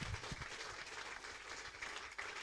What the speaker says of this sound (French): Can you clap your hands for Acclamons Jesus pour le Christ?